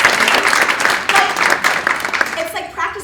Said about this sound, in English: let's give Samantha a round of applause.